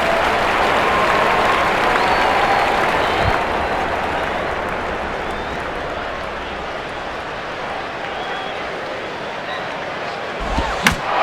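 A stadium crowd in MLB 09: The Show roars loudly and continuously, a dense wash of cheering and applause that slowly eases, ending with a couple of sharp thuds.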